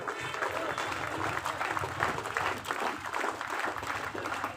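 Sustained applause from an audience at a student union foundation day celebration, dense steady clapping that holds without pause for several seconds.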